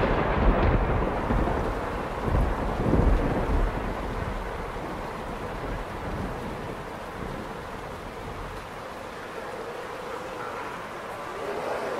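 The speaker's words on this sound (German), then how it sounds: "Das regnet ziemlich doll." Heavy rain pours in a dense, loud roar with deep rumbles of thunder rolling through the first few seconds, then easing to a steady downpour with no voices.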